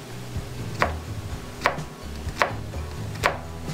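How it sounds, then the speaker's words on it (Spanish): A knife chopping an onion on a board, four sharp, evenly spaced cuts close by against quiet kitchen background, with no voices. "me gusta cortarlo en el sentido contrario a las rayas de la cebolla"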